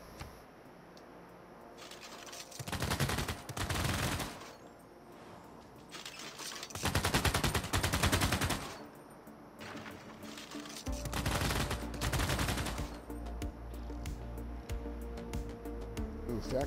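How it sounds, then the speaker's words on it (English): Cannon fire in the strategy game Civilization VI rolls out in three heavy, crackling barrages, each a couple of seconds long, over a constant noisy battle backdrop. "That cannon needs work."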